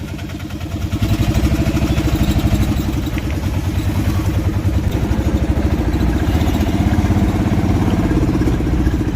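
A share auto rickshaw engine chugs and clatters steadily at close range in Sri Kalahasti, India, rising in loudness after the first second and then running evenly.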